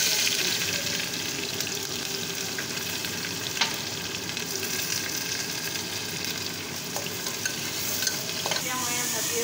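Chopped onions frying in hot oil with bay leaf, cumin and dried chilli in a cooker, a steady close sizzle and crackle with light stirring scrapes throughout.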